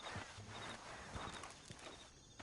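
Horse hooves clip-clop steadily in Red Dead Redemption 2, a quick rhythmic patter of footfalls over a dense, busy game soundscape at moderate loudness.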